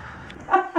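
A short, fairly loud yelp or bark from a nervous pet dog in a home setting, two quick bursts near the end after a low murmur of background noise.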